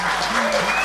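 A huge live audience of thousands at a podcast show in Austin applauds and cheers, a loud, dense, steady roar of clapping and voices filling the space.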